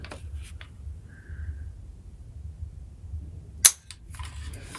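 A single sharp pistol shot snaps once during dry-fire practice with a Mantis X10 training system, close and brief against a quiet, faintly hissing room, with a soft click just before.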